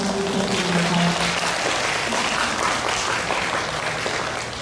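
Audience applause after a film festival GV talk, a dense, even wash of clapping from a large crowd that holds steady throughout and eases off slightly at the end.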